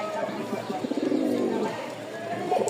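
Repeated low cooing from a nearby male pigeon, rising and falling in a steady rhythm with a few softer coos toward the end.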